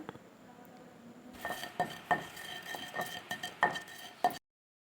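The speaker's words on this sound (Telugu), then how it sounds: "వేంపిన జీలకర్ర ఇట్లా వేసి దంచుతున్నా ఏలకులు లవంగాలు దంచుతున్నా" Roasted cumin, cardamom and cloves pounded with a pestle in a kitchen: a string of sharp, ringing metallic strikes at an uneven rhythm, close and fairly loud, ending abruptly.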